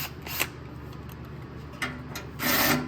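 Small quarter-inch self-tapping screws being backed out of a fan motor on the bottom of a pellet grill hopper give quiet rubbing, rasping scrapes, with brief bursts around the start, middle and end.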